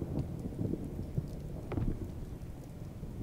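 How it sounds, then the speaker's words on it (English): Rain patters steadily in the horror video game Visage, with low rolling thunder rumbling beneath it, all quiet and distant-sounding with no voices. "Oh, it's raining."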